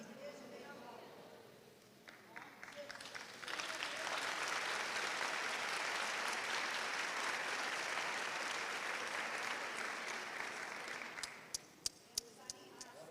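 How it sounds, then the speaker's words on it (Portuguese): A church congregation bursts into loud, sustained applause after a preacher's sermon, building into a dense wash of clapping that fades to scattered claps at the end; no one speaks during it. "Eu faço a pausa retórica e vocês aplaudem."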